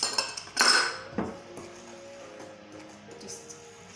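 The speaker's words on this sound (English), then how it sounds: "Just stir that in." Self-raising flour being stirred into cookie dough in a bowl, with a spoon clinking and scraping against the bowl early on, then softer mixing sounds that fade.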